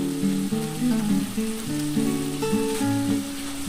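Spice masala for a Bengali jackfruit and prawn curry fries in a pan, a continuous close sizzle with a melodic tune running steadily over it.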